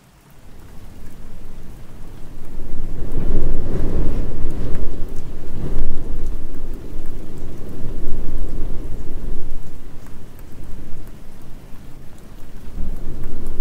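Heavy rain pours steadily on a rainy day while deep thunder rolls and rumbles loudly through the downpour, with gusty swells and no voices.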